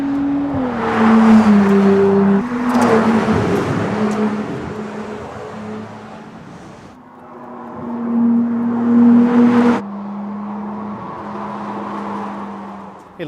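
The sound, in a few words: Ferrari 296 GTB accelerating at speed on a mountain road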